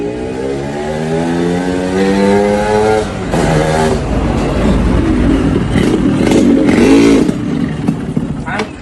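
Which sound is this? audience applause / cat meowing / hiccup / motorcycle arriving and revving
motorcycle arriving and revving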